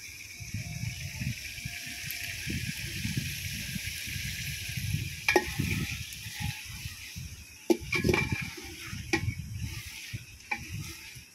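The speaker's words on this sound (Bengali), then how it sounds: "সব কিছু ফোড়ন দিয়ে মাংসটা এখন কষাচ্ছে হাঁড়ির মধ্যে।" Meat tempered with whole spices being sautéed and stirred in a pot over a wood fire: a steady close sizzle with repeated scraping stirs and a few sharp clicks, and no talking.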